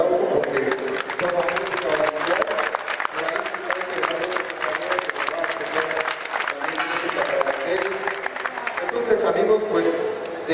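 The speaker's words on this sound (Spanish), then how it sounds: "quiero pedir un fuerte aplauso" Audience applause at a live presentation of participants for a lucha libre wrestling series, a dense, steady clapping crowd filling the whole stretch with scattered cheers, loud and close throughout.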